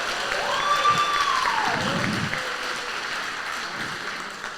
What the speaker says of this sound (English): So if we could give Stugo a huge round of applause.